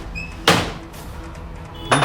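A door thuds shut twice in a room, one solid knock near the start and another near the end, with a quiet indoor background between them.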